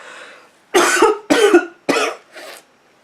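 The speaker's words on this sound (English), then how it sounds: "I've been holding in a cough" Three hard coughs in quick succession, loud and close, followed by a softer fourth cough, with a quiet breathy sound before them.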